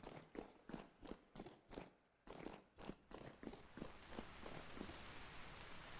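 Rain in a video game: a run of rhythmic footsteps gives way to a steady, soft hiss of falling rain that fills the second half.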